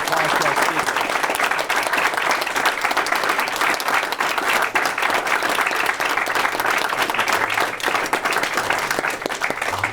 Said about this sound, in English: A big round of applause to our speakers